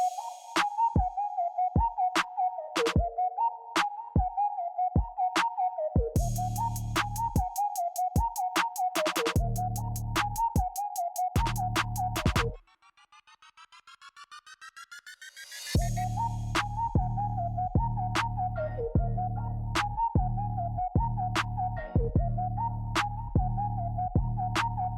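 A mixer grinder blends paneer pieces, a slice of cheese, almonds and salt into a fine paste. Its loud, steady whirring motor throbs in pulses, cuts out briefly midway and then starts up again, with no voices.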